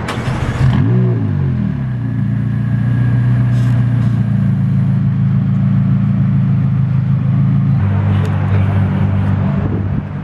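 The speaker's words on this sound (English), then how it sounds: "Let's hear a startup." A sports car with a stock exhaust fires up with a loud, close start-up roar, settles into a steady rumbling idle, then gives a brief rev toward the end.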